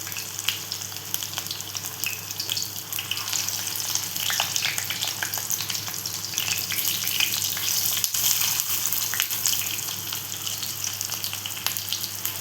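Potato and poha cutlets sizzle steadily in a hot pan and are turned over, giving a dense, even frying hiss across the whole stretch with faint scraping and clicks from the flipping, close by and with no voices.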